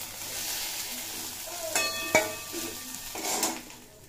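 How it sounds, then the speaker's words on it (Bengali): Potatoes and eggplant fry in oil in a pan while being stirred: a steady soft sizzle runs throughout, with a few sharp clinks and scrapes of a utensil against the pan, close by, and no voices. "আলু আর বেগুন খুব ভালোভাবে ভাজা হয়ে গেছে।"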